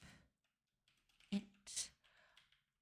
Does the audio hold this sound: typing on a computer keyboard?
yes